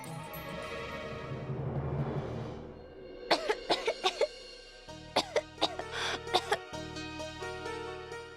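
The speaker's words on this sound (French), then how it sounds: "Tu tousses encore beaucoup." A child gives a run of sharp, close coughs in quick bursts, some grouped in twos and threes, after a stretch of murmured background sound.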